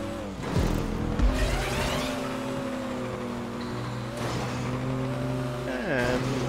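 A car engine revs and drones in a racing video game, a loud, steady motor tone that rises and falls with a few sharp surges, heard under talking voices throughout.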